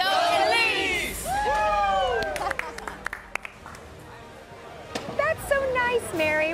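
A small group cheers and shouts together at a tailgate, sending someone off to Villanova. The excited voices rise and swoop at the start, give way to quieter chatter and scattered knocks, then flare up again near the end.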